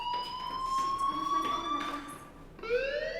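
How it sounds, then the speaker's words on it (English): A fire alarm rings inside the video game Life is Strange, a steady electronic tone that holds, then briefly dips and rises again, with faint background sound and no talk. "Hey, do you hear that fire alarm?"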